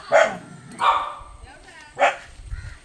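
A dog barks three times in sharp, evenly spaced bursts, close and fairly loud, with rustling and low handling noise between the barks.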